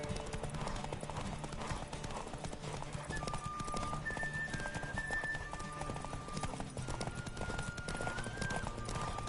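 Rapid, rhythmic hoofbeats of a galloping horse in The Witcher 3: Wild Hunt run steadily throughout, with occasional tonal game sound effects and a faint voice in the background.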